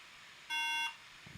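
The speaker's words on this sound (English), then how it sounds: "It's powering up. Ah, beeps. It's the RAM modules." A single electronic beep, steady and bright, lasts under half a second in an otherwise quiet room.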